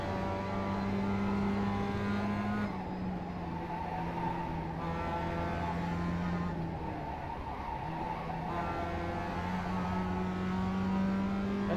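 Mazda race car engine droning steadily on the Charlotte Speedway track in iRacing, a continuous loud hum with pitch dips during braking and gear changes, no talk over it.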